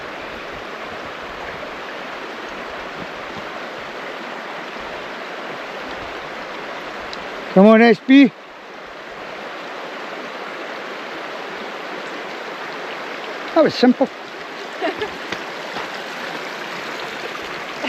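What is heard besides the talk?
river flowing during a walk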